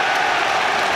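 A stadium crowd at a Liverpool vs Real Madrid Champions League match roars and cheers loudly in a continuous dense wash of noise.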